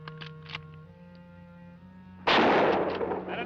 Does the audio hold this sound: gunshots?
yes